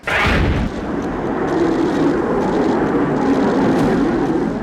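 Tejas Mk1A fighter jet on its first flight in India, heard as a loud, continuous jet roar with a sharp burst at the start, steady and close throughout with no speech.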